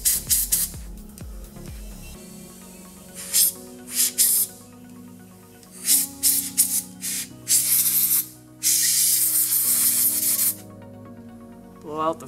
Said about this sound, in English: Take our compressed air.